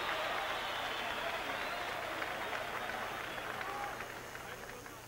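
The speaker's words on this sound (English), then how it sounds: "Let's have a big round of applause for Welcome Nkita." Steady crowd applause and cheering fill a boxing arena during ring introductions, a dense continuous wash of clapping that holds loud and tapers slightly toward the end.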